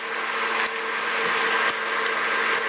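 A popcorn popper roasting coffee beans gives a steady, loud whirring hot-air hum throughout, with a few faint sharp cracks from the beans breaking through.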